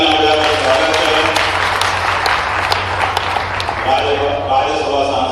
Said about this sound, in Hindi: जोरदार तालियां बजाकर स्वागत करें।